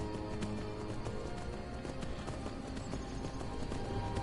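A horse gallops in Skyrim with continuous rhythmic hoofbeats layered over game music and ambience, moderately loud throughout.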